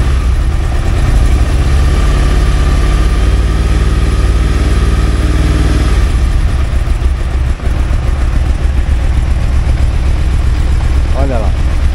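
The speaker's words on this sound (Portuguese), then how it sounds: "vou apertar a embreagem. Tenta reparar o barulho." A motorcycle idles loudly and steadily while its noisy clutch lever is pulled, the engine rumble changing character partway through.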